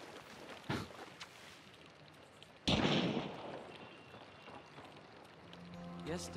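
Faint distant gunfire pops in the video game Hunt: Showdown, with one sharper, louder shot midway followed by a fading rumble, over a quiet background hiss.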